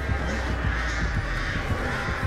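Crows in a video game caw repeatedly in harsh, overlapping calls over a loud, dense background din, continuous throughout with no clear talking.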